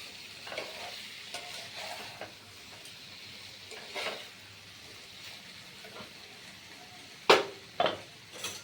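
Boiled potatoes turned in a pan with a spoon, soft faint scraping and a quiet sizzle, ending in two sharper metallic knocks against the pan.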